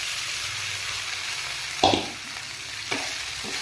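Marinated rice is stirred in a hot pan for Basanti pulao. A continuous close hiss of frying runs throughout, with one loud scrape of the spatula and a second softer scrape.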